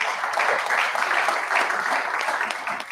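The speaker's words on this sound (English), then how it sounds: "that deserves a little applause" Audience applause during a state political address on Idaho legislation, a steady wash of many hands clapping together that holds level for a few seconds and then begins to taper.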